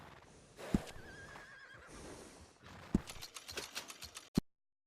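A horse neighs and whinnies in the Red Dead Redemption 2 video game at a livery stable, with a few hoof clops and mechanical clicks, ending in a sharp thump before silence.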